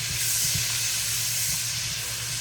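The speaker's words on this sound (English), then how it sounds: "here we go with the Brussels sprouts. I'm going to start putting them in." Brussels sprouts going into a hot pan on a home stove, giving a steady hiss and sizzle with a low hum beneath it, fairly loud and continuous throughout.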